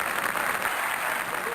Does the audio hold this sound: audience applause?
yes